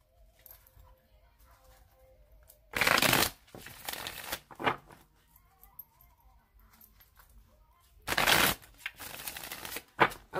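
Tarot cards riffle-shuffled by hand in a quiet room, in two loud bursts of rapid crisp fluttering with softer card handling and tapping between them, close to the listener.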